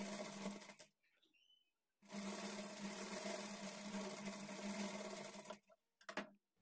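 Sewing machine stitches a blouse armhole dart with a steady, close motor whir in two runs separated by a quiet pause, then a couple of short bursts at the end.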